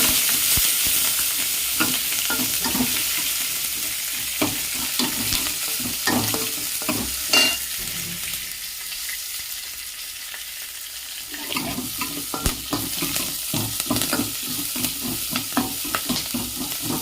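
Small onions, curry leaves and two green chillies sauté in hot oil for drumstick sambar, a continuous crackling sizzle broken by scraping stirs, with a brief quieter lull midway.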